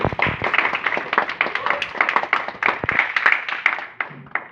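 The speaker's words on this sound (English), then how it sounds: "I need another round of applause for you." An audience claps through a round of applause at a talk in Pakistan, dense overlapping claps building steadily, fairly close and moderately loud, without speech over it.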